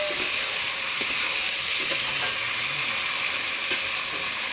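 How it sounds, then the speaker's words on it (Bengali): Flat beans frying in a pan, giving a steady, loud sizzle that holds continuously throughout with faint stirring clinks and no voices. "এখন ছিমটা ভালো করে সুন্দর করে একটু ভেজে নিব।"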